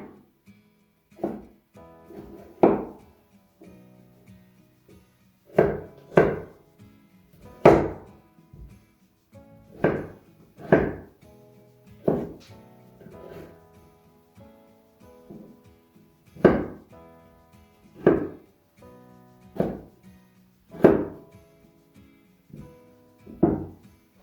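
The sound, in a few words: chopping onions with a knife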